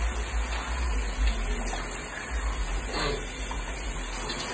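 Water runs from a bathroom tap in a steady rushing gush, close and continuous, with no voices over it.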